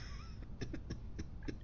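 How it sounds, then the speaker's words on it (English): A patient in a video game coughs several short, quiet times in an uneven rhythm, each cough brief and faint against low background hum. "She also has a cough."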